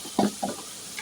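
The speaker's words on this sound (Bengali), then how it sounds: "এবার মশলাটা ভালো করে কষিয়ে নেব।" Spice paste with chili paste and a splash of water cooking in a pan for a vegetarian dhokar dalna, giving a few soft sizzling bursts and stirring scrapes, close and fairly quiet.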